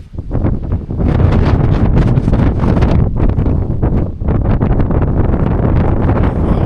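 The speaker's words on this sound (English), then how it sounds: "it's heaps windy" Strong gusty wind on a mountainside beside a steep drop-off on Mount Everest roars and buffets the microphone loudly and continuously, with brief dips between heavy blasts.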